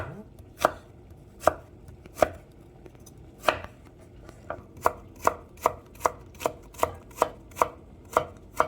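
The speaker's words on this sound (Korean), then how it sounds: "당근도 채 썰어서 준비해 주시면 돼요." A knife julienning carrots on a cutting board makes crisp, sharp chops, a few spaced strokes that speed up into a quick, even rhythm. The chopping is close and clear, with no talking.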